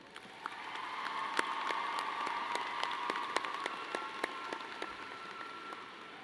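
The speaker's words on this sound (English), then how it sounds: "So let's give them a round of applause." A round of applause at a Sacramento State social sciences commencement, honoring graduates' friends and families: steady, dense clapping from a large audience, moderately distant, with a few sharper individual claps standing out.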